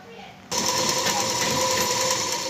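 A sewing machine stitches saree fabric for a blouse. It starts abruptly and runs in a fast, steady, even whir close by.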